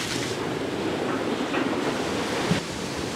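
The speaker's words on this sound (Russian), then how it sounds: "Вот это вот как бы миниатюрная волна, она изображает то, что тут было" Small sea waves washing onto a Crimean shore at Alushta after a storm, a steady rushing surf with soft swells, mixed with wind buffeting the microphone.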